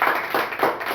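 A church congregation claps in a steady rhythm, a few full, reverberant beats about a third of a second apart, fairly close and loud.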